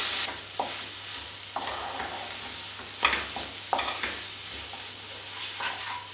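Turmeric, Kashmiri chilli powder and garam masala fry in a pan for butter chicken, a steady close sizzle broken by intermittent scraping stirs of a spoon against the pan, with no talking.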